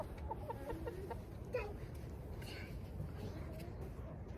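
Backyard chickens cluck softly and intermittently at close range over a low background hum, with a few brief sharper calls.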